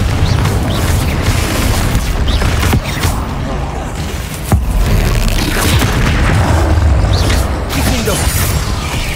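Repeated Confringo fire-spell blasts in the Hogwarts Legacy video game, loud booming explosions with crackling bursts that follow one another continuously over a dense, rumbling game soundtrack.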